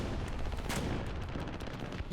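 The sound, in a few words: 30mm cannon firing in War Thunder, a video game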